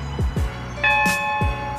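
A notification bell sound effect: a bright, ringing chime that sustains for about a second, set among a few low thumps, with no talk.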